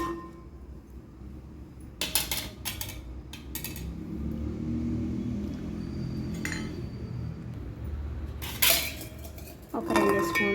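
Metal spoon scraping thickened milk khoa in a pan, with intermittent clinks and scrapes over a steady low simmering rumble, a few sharper metallic scrapes standing out.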